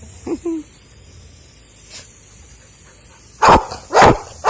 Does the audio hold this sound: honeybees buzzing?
no